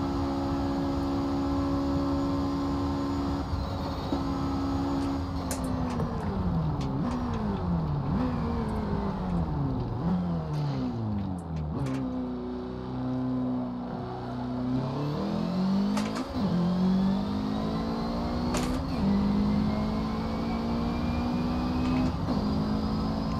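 A Mitsubishi Eclipse with a turbo engine in Forza Motorsport 7 accelerates hard through repeated gear changes, its loud engine note climbing, dropping at each shift and climbing again, with faint turbo whoosh and no talk.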